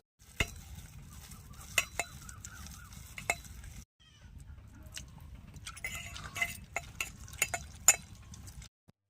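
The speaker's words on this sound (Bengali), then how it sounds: "তো দেখুন হাতটাকে ভালো করে মেখে নেব।" Chanda river fish being mixed into batter by hand, squelchy wet stirring and kneading with scattered clicks and light taps, steady and close, pausing briefly midway before resuming.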